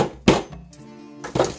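A mallet strikes a PVC stub, driving it into a tight-fitting hole. Two sharp knocks land about a second apart, close and alone.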